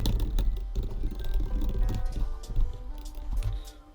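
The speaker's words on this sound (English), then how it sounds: "For example, I'm just going to type out." Rapid typing on a computer keyboard up close, with irregular bursts of crisp key clicks and soft thuds from keys bottoming out, carrying on through the whole stretch with no voice.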